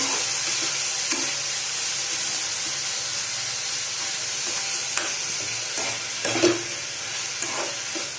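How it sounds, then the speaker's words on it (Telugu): Green chilli and tomato frying in a pan for carrot chutney, a continuous soft sizzle and hiss with occasional stirring clinks, close by and steady throughout. "వేయించుకుందాం"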